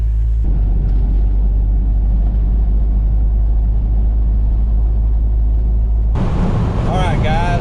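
A 1997 Jeep Wrangler cruising at 70 mph on a snowy four-lane highway, a loud, steady low engine and road rumble throughout, with a voice joining near the end.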